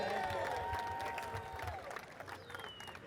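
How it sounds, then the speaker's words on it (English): A crowd at a nighttime drifting event applauds and cheers for a third-place team, a broad, fairly distant wash of clapping and voices that tapers off toward the end. "big round of applause here for Tandem Knights, third place this year"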